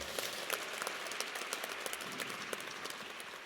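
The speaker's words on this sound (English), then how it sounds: "Give us a warm round of applause." An audience at a university announcement event breaks into sustained applause, dense even clapping from many hands at a moderate, somewhat distant level with no speech over it.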